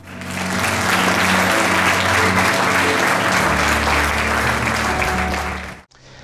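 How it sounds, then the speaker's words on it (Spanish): Loud, sustained applause from a large crowd fills the space for several seconds, then cuts off abruptly near the end. "Le damos un aplauso al Señor"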